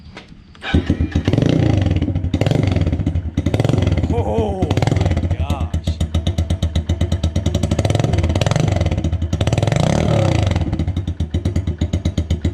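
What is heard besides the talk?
pit bike engine without spark arrestor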